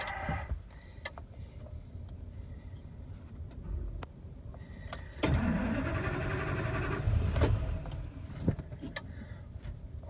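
A Ford F450 truck with a newly replaced fuel pump cranks and then starts. The engine catches midway through and runs louder and steadier for a couple of seconds, after quieter clicks and rattles, with no talking.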